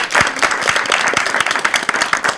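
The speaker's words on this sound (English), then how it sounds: "Give yourself a round of applause." Studio audience applause at a university event, a dense burst of many hands clapping close and loud, steady for a couple of seconds.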